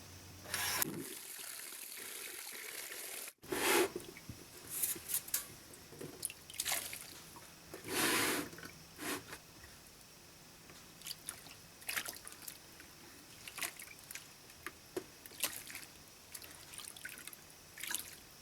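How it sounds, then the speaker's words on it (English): Water drips and trickles as a blocked crochet shawl, washed with hair conditioner, is rinsed, with soft splashes and squishes of wet yarn coming close and in irregular bursts, with no talking. "I am going to have to rinse it."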